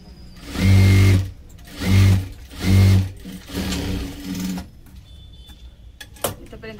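A sewing machine stitching a blouse with a half-inch seam margin, running in three strong, even bursts of rapid mechanical whirring followed by two softer, shorter runs, then quiet handling clicks close by.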